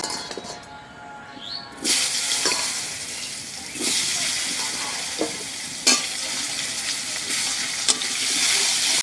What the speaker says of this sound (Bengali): এবার আলুগুলো দিয়ে দিচ্ছি